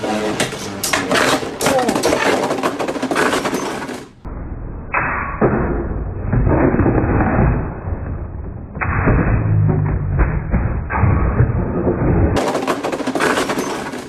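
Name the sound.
Beyblade spinning tops launched and battling in a stadium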